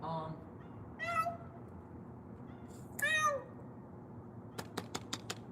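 A pet cat gives two clear, separate meows a couple of seconds apart against a quiet room hum, followed by a quick run of sharp clicking taps.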